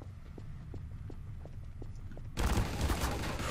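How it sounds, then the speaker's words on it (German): Gunfire in Garry's Mod Trouble in Terrorist Town, preceded by faint rhythmic footsteps, then a sudden loud, dense burst of shots filling the final second or so. "Ich höre jemanden schießen."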